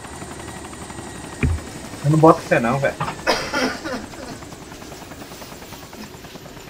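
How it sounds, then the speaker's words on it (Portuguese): Helicopter flying in the video game DayZ, a steady rotor drone running throughout beneath a voice talking and laughing over it. "Tem um helicóptero aí, velho, tá gastando gasolina."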